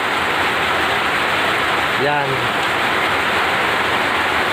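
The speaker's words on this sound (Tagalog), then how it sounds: "Umuulan." Steady, dense rain falls, a continuous hiss like a downpour on pavement and a parked motorcycle, with a brief voice speaking midway over it.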